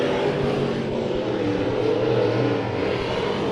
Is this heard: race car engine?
yes